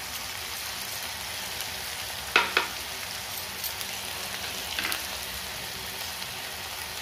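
Bitter gourd masala with ginger-garlic paste sizzles steadily in a pan, giving a continuous close frying hiss broken by a couple of brief stirring clatters.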